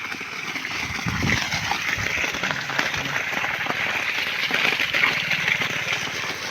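Irrigation water gushes steadily into coriander and fenugreek beds on a farm in the morning. It makes a broad, constant hiss and splash with no break, and a faint engine hum runs beneath it.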